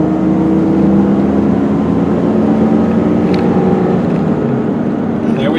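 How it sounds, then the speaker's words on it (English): A 2002 GMC Envoy SLT's inline-6 engine pulls steadily under acceleration while driving, a loud, continuous low drone with a faint whine rising over it, no talking. "Inline 6 has plenty of power."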